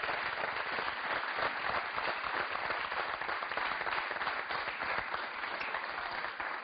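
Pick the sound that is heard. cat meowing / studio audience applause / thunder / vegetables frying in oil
studio audience applause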